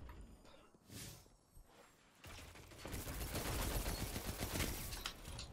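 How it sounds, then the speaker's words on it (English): Automatic rifle fire in a first-person shooter video game, a dense sustained burst of rapid shots starting after a quieter stretch and running loud to the end with no talking. "My auto rifle is better."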